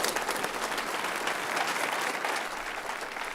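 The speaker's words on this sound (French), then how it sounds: "Applaudissez-la." Audience applause at a Christian church service or healing meeting, a steady dense wash of clapping from a crowd that holds at an even level throughout with no voices on top.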